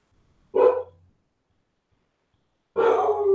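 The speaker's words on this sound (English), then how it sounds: "Y'all hear my dog?" A dog barks at the house as someone comes to the door: two loud, close, separate barks about two seconds apart, with silence between them and no talking.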